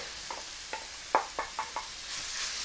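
Minced meat dropping into a pan of softened, browning onions, with a series of distinct sharp knocks and scrapes of stirring over a faint background hiss that swells slightly toward the end.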